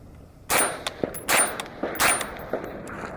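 A rifle fitted with a Surefire SOCOM RC2 suppressor fires three muffled shots about three-quarters of a second apart, each with a sharp crack. Metallic clinks and rattles from the action and nearby gear fall between the shots.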